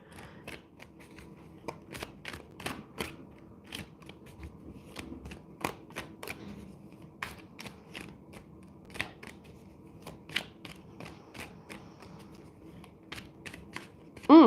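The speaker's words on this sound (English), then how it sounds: "I'm going to shuffle again." Tarot cards are shuffled in a quiet room, producing soft, irregular riffling clicks and snaps scattered over several seconds, faint and close, with no talk over them.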